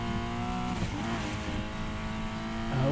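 Car drifting in the racing game Need for Speed Payback, a steady loud engine roar with harmonic whine and tire noise running continuously, rising slightly at the end.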